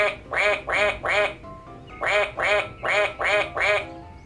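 A duck quacks in close, loud bursts: three rapid quacks, a short pause, then five more in an even rhythm, with nothing else around them.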